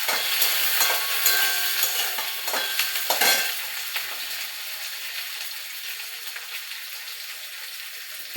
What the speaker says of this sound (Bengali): আমি প্রথমে টমেটোটা ছেড়ে দিলাম, আদা, রসুন, পেঁয়াজ, কাঁচা লঙ্কা একটু কষে নিয়ে পালং শাকটা দেবো